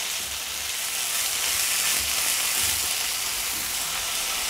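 Mint leaves sautéing in a pan for a pineapple rice and raita recipe, giving a steady, close sizzle that runs unbroken with no voices.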